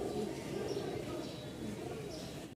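Pigeons coo softly and repeatedly in a loft where two pairs are kept, close by, with low rolling calls under a nearby voice talking.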